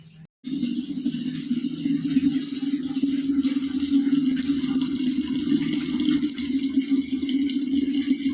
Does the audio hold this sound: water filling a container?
yes